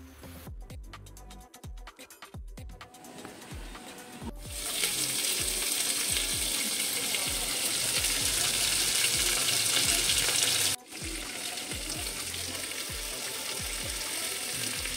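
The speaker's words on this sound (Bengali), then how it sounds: "রিফাইন অয়েল আর ঘি দিয়ে সবজিগুলো ফ্রাই করে নেব।" Vegetables fry in refined oil and ghee in a pan with garam masala and chopped ginger, a dense, steady sizzle that starts softer with scattered stirring clicks, then swells into a loud, continuous hiss with no voices.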